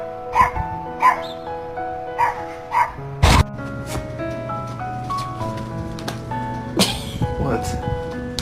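A pet dog barks in a quick series of sharp yips near the mic, then a louder burst later, with people talking and exclaiming in between.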